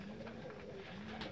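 Domestic pigeons give a steady, low cooing with overlapping drawn-out notes, close by and continuous, with no talk over it.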